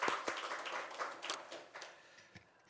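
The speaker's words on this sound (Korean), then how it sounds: "우리 하나님께 영광의 박수 올려드리겠습니다." A church congregation at a Sunday worship service claps in praise, faint and scattered handclaps that thin out and fade over a couple of seconds.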